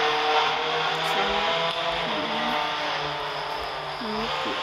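Video game car engine droning steadily, with a few brief rising revs and pitch sweeps over a bright continuous background hiss, no talking.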